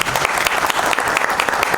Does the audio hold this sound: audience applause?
yes